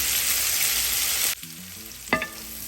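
Bitter gourd (karela) fries in a pan with a loud, steady sizzle that suddenly drops away, followed by quieter crackling and a brief utensil clink against the pan as it is stirred.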